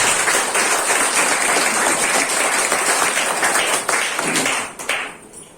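An audience claps loudly together in steady applause that fills the room, then tapers off and fades near the end.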